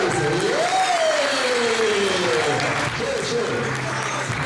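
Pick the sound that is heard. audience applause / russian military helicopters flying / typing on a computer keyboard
audience applause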